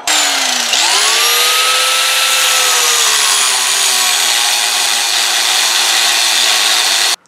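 A power saw cuts through a steel bar to clean its end for welding, a loud close grinding whine with strong ringing tones that sag and recover as the blade bites, running continuously for about seven seconds before stopping abruptly.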